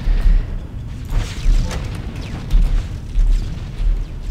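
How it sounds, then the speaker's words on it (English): Explosions in Halo: Combat Evolved multiplayer gameplay: a dense, rumbling low-end roar with several overlapping blasts and mechanical clanks, loud and continuous with no talk. "Tons of explosions all over the place."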